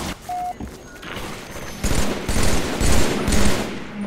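A teammate opens fire in the Halo video game, with close game gunfire coming in irregular loud bursts over the second half after a quieter start, plus a brief electronic tone early on.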